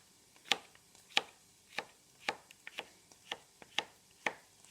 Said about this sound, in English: chop my courgette up